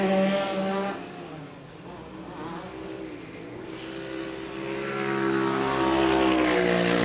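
An off-road race vehicle at a New Zealand national final circling the track, engine droning and shifting pitch as it rounds a bend then swelling louder, steady and mid-distance with no break.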